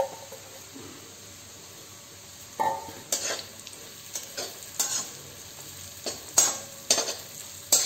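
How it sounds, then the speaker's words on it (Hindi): Gram flour roasts in mustard oil in a wok under a faint, low sizzle, while a spoon scrapes and knocks against the metal in irregular, increasingly frequent strokes; no voices. "कढ़ाई में मैंने 1 बड़ा चम्मच सरसों का तेल डाला है। इसमें हम अपने बेसन को भून लेते हैं।"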